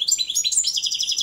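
A Balkan goldfinch (Carduelis carduelis balcanica) sings a bright, rapid run of high twittering notes, close and clear with no other sounds.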